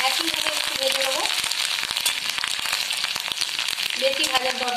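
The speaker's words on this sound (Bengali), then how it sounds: "আদা কুচি এটাও ঠিক সেম একইভাবে একটু ভেজে নেবো" Chopped ginger fries in a pan with a loud, constant sizzle and crackle, close up. A person speaks over it throughout.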